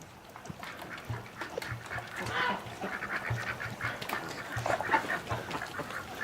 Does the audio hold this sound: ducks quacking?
yes